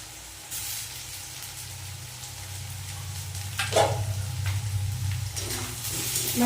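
Chopped garlic and tomato frying in oil with lightly fried potato and onion for a rohu fish-head muri ghonto, a soft steady sizzle that swells with a few stirring scrapes, close and alone.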